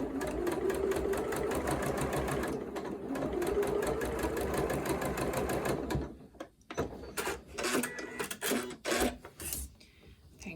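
A sewing machine stitches a curved orange peel quilt block with a 1/4 inch foot, a rapid, even mechanical chatter close by for about six seconds, then short stop-start bursts of stitching.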